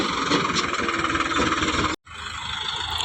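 A tractor engine idles steadily at close range with a low, rumbling drone while loading straw, briefly cutting out for a moment before the running sound resumes.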